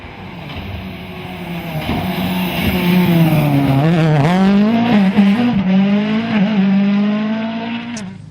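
A rally car on a stage of the 2013 West Cork Rally roars close by, its engine note climbing and dipping as it revs through the gears, loud and with no talk.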